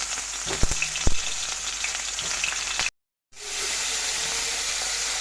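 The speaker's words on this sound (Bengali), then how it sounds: "তেলটা গরম হয়ে যাক তারপর দিয়ে দেব ফুলকপি দিয়ে দিচ্ছি ফুলকপিগুলো" Cauliflower florets hit hot oil with a loud, steady sizzle, a few sharp pops and clinks early on, then a brief drop to silence before the frying hiss resumes strongly.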